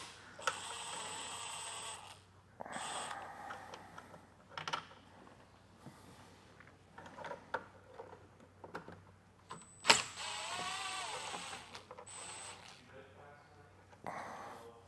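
Screws backed out with a T15 star bit driver, bursts of whirring ratchet-like buzzing separated by pauses, with clicks and a sharp clack partway through, close and moderately loud.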